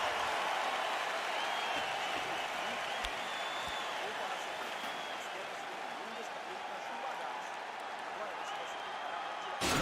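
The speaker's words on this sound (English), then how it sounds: "So the crowd voicing its appreciation after that round." Virtual crowd in the UFC 4 fighting video game applauding and cheering after a round, a steady broad roar of clapping and noise lasting throughout, with commentary voices underneath.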